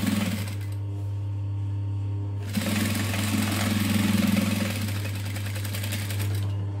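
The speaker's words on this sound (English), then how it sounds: "So we're going to stitch it to the other side" A sewing machine stitches the lining seam of a handmade wallet, humming with a steady mechanical whir and rapid needle clatter, pausing briefly before running on again close up without talk.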